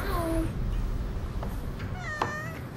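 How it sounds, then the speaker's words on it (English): Several cats meow in a room, a few short drawn-out calls near the start and a clearer, higher meow later, over a constant low background rumble. "Hang out with kitties?"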